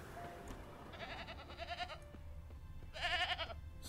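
Faint goat bleats from The Witcher 3, two wavering calls in a quiet outdoor game scene, the second louder and longer, with soft ambient background.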